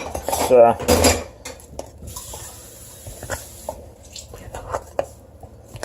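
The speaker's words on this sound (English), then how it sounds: "Mix it with the spoon. Mix it well" A spoon mixes gluten-free buckwheat pancake batter in a bowl, starting with a loud clattering burst, then softer scraping, tapping and clinking of metal against dishware.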